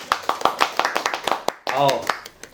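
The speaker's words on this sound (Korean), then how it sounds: "자, 박수로 환영하도록 하겠습니다. 박수." A burst of clapping from a small group rises after a stretch of talking, lasting under half a second before speech resumes.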